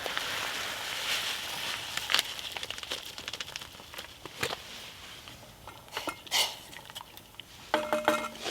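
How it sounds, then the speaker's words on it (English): Dry rice pours and rattles into a boiling pot on a camping stove outdoors, a soft crinkly rush with scattered clinks of metal. A small mechanical chatter sounds near the end. "Just tip the rice in."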